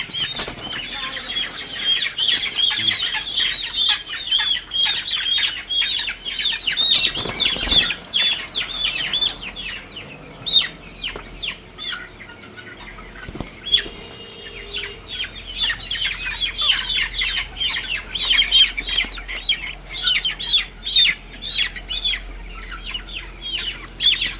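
A chicken being tied up for beak trimming squawks and clucks repeatedly and close by, with bursts of flapping wings and bird chirps around it, loud and agitated throughout with no voices.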